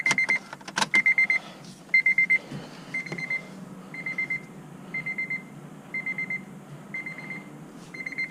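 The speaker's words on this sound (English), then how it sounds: "Stop the beeping. I hate the beeping." Warning chime from an 8th-generation Honda Civic Si during an oil change: a steady run of short, bright beeps in quick groups of four or five, repeating about once per second over a low background hum.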